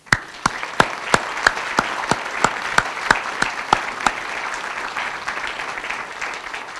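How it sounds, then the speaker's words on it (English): Steady, evenly spaced single claps ring out one after another, a slow rhythmic clapping that stops partway through, leaving quiet room tone. "I'd like to applaud all of you and have all of you applaud each other right now"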